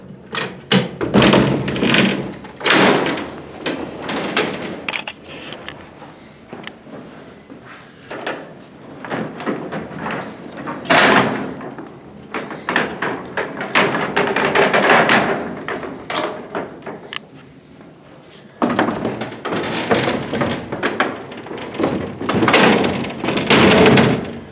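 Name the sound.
heavy wooden gates of a 1927 freight elevator opening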